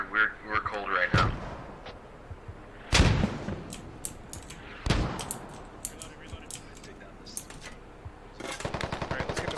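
Mortar and gunfire during a Culp's Hill operation: several heavy booming blasts a few seconds apart, loud and near, with sharp cracks and shouted talk in between.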